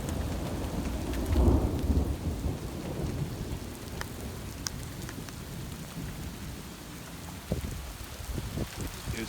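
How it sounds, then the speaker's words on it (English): During a severe thunderstorm in Toms River, hail and rain patter densely, with a thunder rumble early on and scattered sharp ticks of stones hitting surfaces, the roar steady afterward. "It's definitely hailing again."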